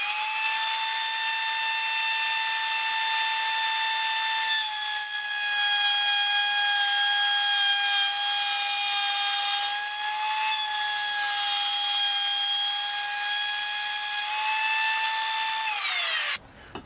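Router fitted with a very narrow dovetail bit, barely a quarter inch, cutting oak with the fence moved close to the bit: a loud, steady high-pitched whine held for about sixteen seconds, with slight dips in pitch under load before it stops abruptly.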